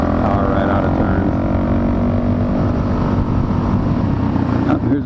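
A Suzuki DRZ400 four-stroke dirt bike is ridden through a forest, its engine a continuous close, loud drone under steady throttle, shifting slightly as it pulls out of a turn.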